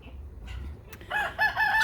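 A small young rooster crows near the end, a short bright call rising after a brief low rumble and a quieter lead-in, close and fairly loud.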